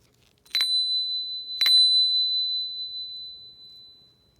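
Two clear ringing strikes from 7th-octave Malmark handbells sound about a second apart, each a bright, pure high tone that sustains and slowly fades in a quiet room.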